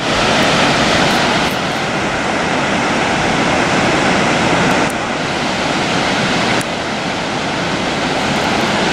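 A waterfall at Blackwater Falls State Park roars as a loud, steady broadband rush of falling water, continuous throughout with no voices, close and full.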